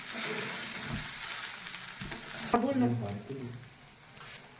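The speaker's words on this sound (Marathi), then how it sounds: "साबुदाण्याला 10 ते 15 मिनिट असं गरम करूयात आपण" Sabudana (tapioca pearls) heating in a pan for khichdi, giving a steady close sizzle with stirring scrapes that eases off and shifts partway through.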